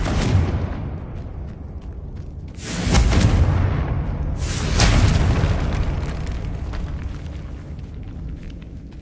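Two heavy explosion bursts from the Confringo fire spell in Hogwarts Legacy, set in a tomb. Each is a deep, booming blast with a rolling rumble, the second following about two seconds after the first, over a steady low ambient drone.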